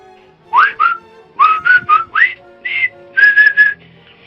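A person whistles a short tune alone and up close, in about a dozen crisp, separate notes and sliding chirps of varying pitch.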